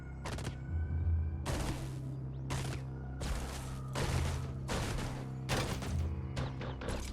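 Repeated gunfire bursts in the video game Caves of Qud, aimed at a laser turret: about eight sharp broadband shots in an uneven rhythm, each with a short decay, over a steady low background hum.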